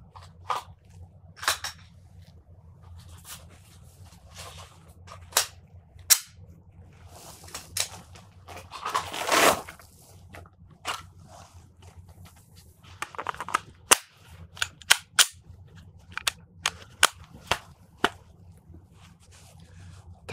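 Shots fired at a shooting range during a ten-round precision drill, sharp single reports spaced irregularly across the clip, some in quicker succession, with a brief noisy rustle in between.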